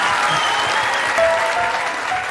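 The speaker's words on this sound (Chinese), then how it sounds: "大家鼓掌一下，" Studio audience applauding during a variety show magic trick, a steady dense wash of clapping that fills the whole stretch, loud and even, with no clear talking over it.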